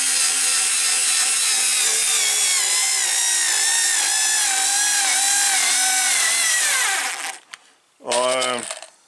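A SKIL 2710 power screwdriver drives a screw into wood with a steady, loud whirring hum that runs for about seven seconds and then stops. After a short pause it gives one brief, close final burst.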